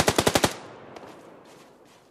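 Rapid burst of five automatic gunshots in the game PUBG Lite, loud and close, followed by fading echoes and a few faint distant shots.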